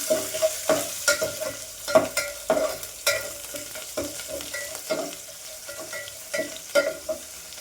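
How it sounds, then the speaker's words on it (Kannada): Garlic fries in hot oil with popping mustard seeds, a steady sizzle broken by sharp crackles and stirring scrapes at an irregular rhythm, close and fairly loud. "ಸಾಸಿವೆ ಸಿಡಿದ್ಮೇಲೆ ಬೆಳ್ಳುಳ್ಳಿ ಹಾಕಿ ಫ್ರೈ ಮಾಡ್ಕೋಬೇಕು."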